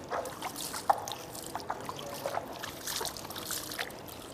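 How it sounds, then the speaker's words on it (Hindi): Water poured over the feet during wudu ablution, a faint, uneven trickle and splash with soft drips and light scrubbing sounds, fairly quiet and close with no speech. "आप पानी लें और इस तरह पानी डालते जाएं और खिलाल करते जाएं"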